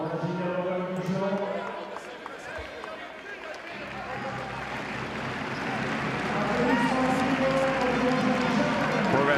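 Spectators at a Basketball Champions League game between JDA Bourgogne Dijon and Peristeri applaud and cheer a player, a broad crowd wash swelling toward the end beneath a commentator's voice and arena noise.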